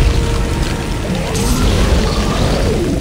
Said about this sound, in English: I like the alt fire. Like a napalm made grenade of fire.